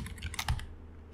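Close, quiet typing on a computer keyboard while entering localhost in a browser, a short run of light key clicks that trails off into near silence, no voices.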